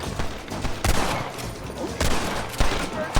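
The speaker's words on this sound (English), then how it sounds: "I gotta aim the gun" Gunfire in Red Dead Redemption comes as a dense fusillade, with repeated loud shots and sharp cracks overlapping at close range throughout.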